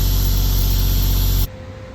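Abrasive blasting on an International B250 tractor makes a loud, steady roaring hiss close by. It cuts off abruptly near the end, leaving a much quieter background.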